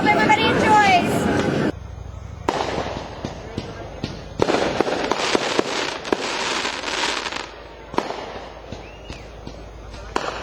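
Fireworks bursting at a 4th of July festival, a run of sharp cracks and pops at varying distance scattered through the clip, with crowd voices and talk underneath.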